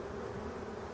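Honeybees at a hive on a late-August day during varroa mite treatment with Apivar strips, giving a steady, close, continuous buzzing drone with no talk.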